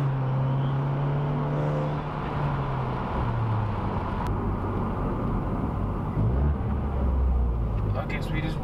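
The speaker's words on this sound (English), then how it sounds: "Yup, Lambo GTS. God, wait, that's loud." A loud Lamborghini GTS drives by on a road with a deep engine roar, and a truck follows close behind it, under continuous traffic noise.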